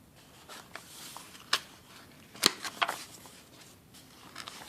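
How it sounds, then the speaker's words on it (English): A few soft, brief paper rustles and flicks, like a book page being turned, quiet and close with no talking. "Turning the page."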